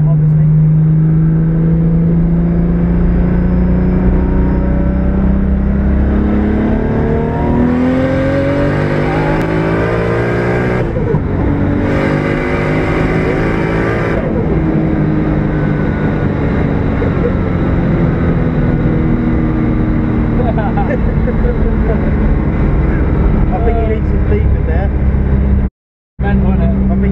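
A Toyota Supra tuned past 1000 bhp accelerating hard, the engine rising loudly through the revs with gear changes and a brief cut, heard from inside the car with people talking over it.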